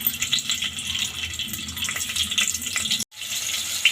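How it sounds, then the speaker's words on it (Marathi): Finely chopped onion sizzling in two spoons of hot oil in a pan, a dense, steady hiss up close, briefly cutting out near the end before resuming. "आपण आता दोन चमचे तेल टाकून घेऊया त्यामध्ये बारीक चिरलेला कांदा टाकून घेऊ आपण"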